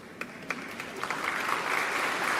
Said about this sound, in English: we applaud both masters